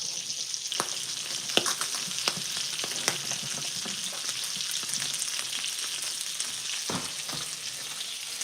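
Green beans sautéing with garlic and caramelizing onions in a pan, a constant frying crackle with scattered sharp pops and utensil scrapes, moderately quiet and without speech.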